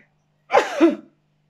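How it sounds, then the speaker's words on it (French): A single short sneeze, a quick two-part burst from a nearby person in an otherwise quiet room. "je vais éternuer"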